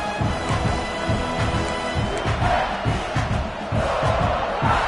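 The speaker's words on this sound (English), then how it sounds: "Man, this crowd really affecting the football game." A home crowd at a football game in Miami roars loudly and without a break, a dense wall of cheering voices.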